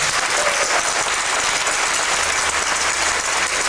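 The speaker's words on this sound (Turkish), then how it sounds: "bir alkış" A concert audience at a Van folk song performance gives a dense, continuous round of applause, loud and unbroken from start to finish.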